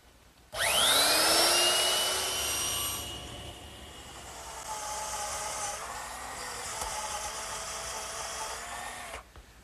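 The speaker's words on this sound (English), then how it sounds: "to make it a little bit softer on the top edge, I'm just going to use a 1/4 inch rounding over bit" A router fitted with a 1/4 inch round-over bit spins up with a rising whine, then rounds over a board edge with a loud, steady whirring cut that varies in pitch as it moves along, close and with no talk.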